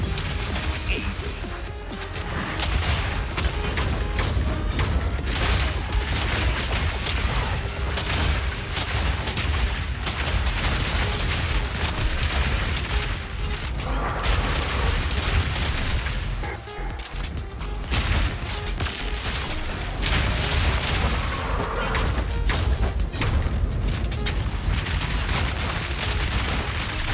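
Artillery fire in Path of Exile 2 keeps up a dense barrage of booms, crashes and impacts, loud and nearly unbroken, with only a brief lull partway through.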